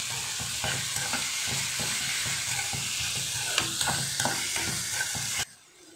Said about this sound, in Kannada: ಮಾವಿನಕಾಯಿನ ಫ್ರೈ ಮಾಡಲ್ಲ, ಜಸ್ಟ್ ಸುಮ್ಮನೆ ಮಿಕ್ಸ್ ಮಾಡ್ತೀನಿ